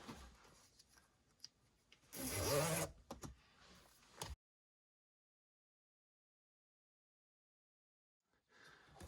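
A zipper is pulled open on the fabric bottom cushion cover of a rear seat in a 2024 Chevrolet Silverado EV, one close, brisk rasping pull lasting under a second amid faint handling rustle, then silence.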